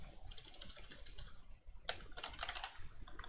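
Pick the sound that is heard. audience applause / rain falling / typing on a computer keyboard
typing on a computer keyboard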